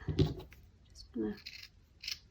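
Scissors snipping stringy bits off craft material for a handmade boho bead, a few short crisp cuts close up in a quiet room, with someone speaking briefly between them.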